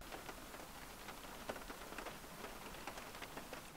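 Rain falling on a van, a steady dense patter with scattered sharper drop ticks, faint and even throughout, with no voices.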